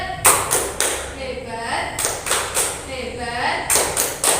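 A classroom of children performs the "tepuk hebat" clapping routine, bursts of rhythmic claps and taps in short patterned groups alternating with a teacher's voice and children's chanted replies.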